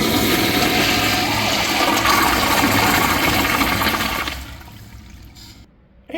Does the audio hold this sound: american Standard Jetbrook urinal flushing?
yes